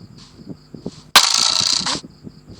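A Minecraft gun fires once in a sharp, loud blast that holds as a bright burst for almost a second, set against quieter game clicks and taps before and after.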